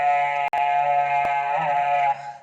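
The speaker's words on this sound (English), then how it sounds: "this is the goat horn. It's a new object you can get. If you blow into it," A goat horn blown in Minecraft 1.17 Caves and Cliffs, one long sustained, loud, bleating horn tone with steady harmonics, broken by a brief cut near the start and fading out at the end.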